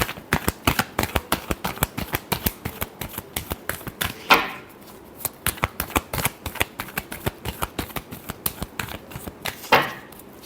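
Tarot cards are shuffled by hand in quick, rhythmic riffling bursts of dense papery flicks, with two louder bridging riffles that close each run; close up, with no talking.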